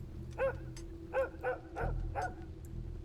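A dog barks in a video game, five short, evenly spaced barks at moderate distance over a low steady hum, with no talking.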